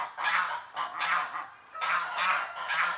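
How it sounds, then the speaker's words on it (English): Geese honk repeatedly in several bursts, fairly close, with short pauses between the calls. "The geese are coming to say hello again."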